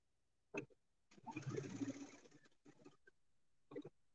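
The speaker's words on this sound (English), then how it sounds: "Now I'm sewing my pieces right side together" Sewing machine stitching patchwork pieces right sides together, a short burst of stitching followed by a longer steady run, then brief intermittent bursts, fairly quiet and close with no talk.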